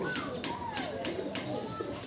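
Pigeons coo in soft repeated rolling calls, close by, with a few sharp rhythmic taps and faint background voices.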